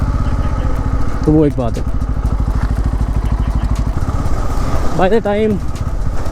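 A Bajaj Pulsar N250 motorcycle engine hums steadily while riding in third gear through narrow lanes, its close, continuous drone running under someone talking throughout.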